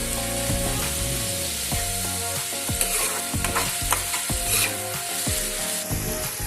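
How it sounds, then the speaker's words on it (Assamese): Tomatoes fry in a pan with a constant loud sizzle while a utensil scrapes and stirs in repeated strokes, close by, with no voices. "বিলাহী গলি যোৱালৈকে ভাজিব লাগিব"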